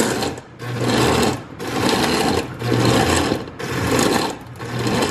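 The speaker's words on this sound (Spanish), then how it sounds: "Y bueno, voy a moler." A blender grinds tomato, onion, cumin and garlic into a broth base in a home kitchen, a loud steady whir that surges in three long bursts with short pauses between them.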